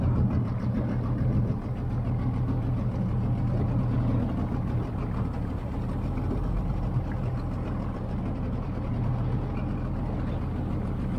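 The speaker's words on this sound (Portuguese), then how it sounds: "o motor pá, está a trabalhar muito bemzinho" A fishing boat's motor runs steadily on board, a loud, low continuous drone with no breaks, heard close and without talk.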